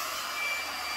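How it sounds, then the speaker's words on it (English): A Conair spin hair dryer running in a bathroom, a steady, loud, even airy whir with a faint high whine throughout and no talking. "working on my hair with this Conair spin dryer"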